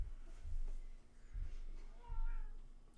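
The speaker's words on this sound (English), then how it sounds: "The sounds coming out of my cat right now are strange." A cat makes strange low meows and chirps in a few short bursts, close and fairly quiet, with no voices.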